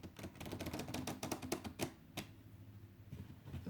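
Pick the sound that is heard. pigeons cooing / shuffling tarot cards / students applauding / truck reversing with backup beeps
shuffling tarot cards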